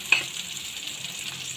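Tomato frying in a pan for fish and prawn curry, a steady soft hiss and sizzle with a faint tap near the start, close and continuous.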